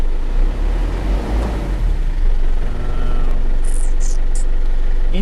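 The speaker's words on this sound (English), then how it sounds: "Engine idle's fine," Holden Isuzu Rodeo engine ticking over at a steady idle, a continuous low rumble with faint vibration up close, a few brief high chirps near the end.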